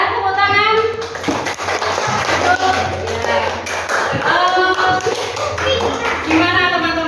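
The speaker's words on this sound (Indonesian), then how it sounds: "Ya, tepuk tangan." A classroom of students claps briefly and loudly, mixed with children's chatter and voices throughout, the clapping blending into noisy room talk.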